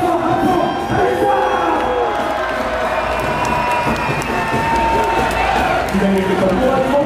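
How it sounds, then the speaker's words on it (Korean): A crowd at a Korean event cheers and shouts continuously, with loud, dense, sustained noise and some clapping, and people call out over it. "여러분, 큰 박수 부탁드립니다."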